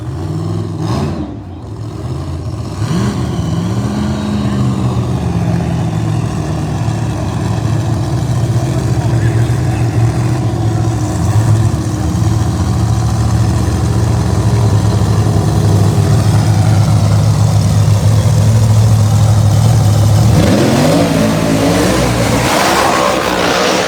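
Pro Mod drag race cars at the Bradenton World Series, a loud sustained engine roar with rising revs building over a long stretch, then a sharp change near the end.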